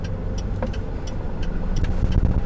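A manual car on a driving-test course pulls away in second gear with a steady, close engine drone and low rumble, rising slightly toward the end with no talking.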